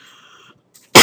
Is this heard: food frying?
no